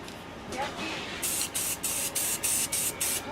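Short bursts of spray paint hiss onto safety vest lettering as light tack coats, about seven quick, close sprays in a regular rhythm after a softer stretch of background noise.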